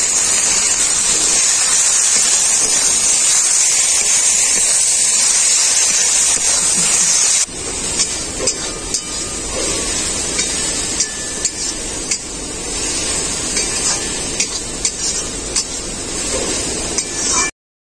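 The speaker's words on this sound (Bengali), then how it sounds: "সরষে বাটাটা দেওয়ার পর মশলাটাকে আমি খুব ভালো করে কষিয়ে নিয়েছি" Spice paste mixed with mustard paste fries and is stirred in a pan for a snakehead fish and onion-greens dish, a loud continuous sizzling hiss with occasional light clinks of the utensil.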